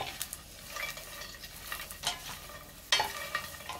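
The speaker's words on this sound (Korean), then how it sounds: "이렇게 볶으세요" Anchovies and nuts stir-fried in a pan, a steady sizzle under scraping stirs of a utensil, with a sharper clatter of metal near the end; close and moderately loud, no talking.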